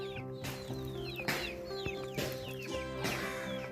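Chickens cluck close by in a backyard coop that also holds two roosters. Repeated bursts of clucking and squawks come over a steady droning hum, in an uneven rhythm of rising and falling calls.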